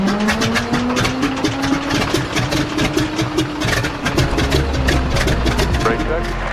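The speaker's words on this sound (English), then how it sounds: "Clear prop." A T-6 propeller plane's radial engine turning over and catching, a loud rumbling, pulsing drone with a rising whine, with people talking over it.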